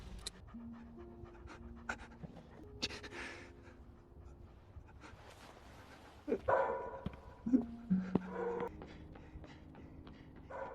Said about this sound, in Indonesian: Anjing itu pun terus menggonggong dan mengarahkan Byongji hingga ke toko lampu.